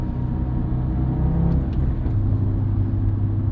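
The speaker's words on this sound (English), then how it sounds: "Even at idle, you'll hear because the 5-cylinder isn't the smoothest, although it does sound fantastic." A 2013 Audi TT RS five-cylinder engine idles steadily with a low, slightly uneven rumble, close by and continuous, with a faint rise in tone partway through.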